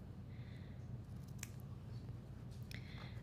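Scissors snip through quilting fabric while trimming pieces for a quilt block, a few short crisp cuts spaced apart over a steady low background hum, fairly close.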